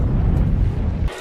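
A loud, sustained low rumbling blast from a battle between mechs and monsters in the animated Love Death & Robots episode Suits, rolling on for about a second before cutting off sharply.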